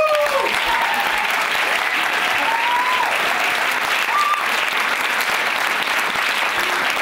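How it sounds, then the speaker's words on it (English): Continuous applause from an audience at a staged arts event, loud and even throughout, with scattered whistles or voices rising briefly above the clapping. "Applause!"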